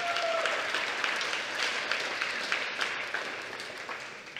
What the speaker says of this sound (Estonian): Teeme endale suure aplausi selle kannatlikkuse eest.